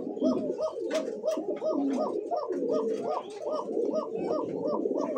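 Red checker racer pigeon cooing in repeated rhythmic pulses, close and steady throughout, with no talk over it.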